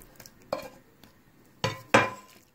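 Spinach filling spooned onto a baked quiche crust, with three distinct scraping clinks of a spoon against a dish at irregular intervals over quiet background.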